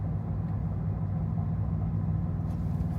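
A Chevrolet Silverado 1500's 6.2 liter V8 pulls uphill with a steady, low droning rumble, heard from inside the truck at moderate loudness with no talking.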